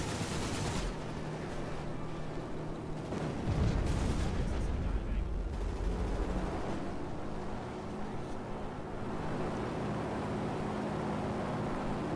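Warplane guns fire in World of Warplanes, a rumbling barrage of rapid shots over steady engine drone, swelling briefly around the middle before settling back into the droning flight noise.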